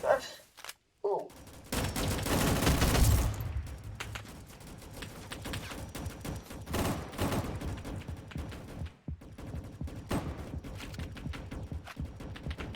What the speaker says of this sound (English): Oh, I'm getting shot from behind. Getting shot from like all angles.